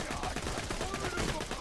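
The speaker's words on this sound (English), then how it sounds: "this machine pistol feels pretty good" Rapid, dense bursts of machine pistol fire in the shooter video game Borderlands 2, loud and continuous, with a voice speaking over the gunfire.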